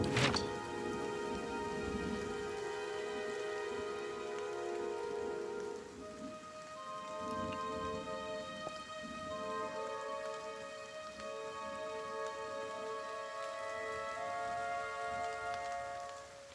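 Steady rain falls in the fantasy role-playing game Pillars of Eternity, a continuous even patter with faint low rumbles, accompanied by soft ambient musical tones and no talking.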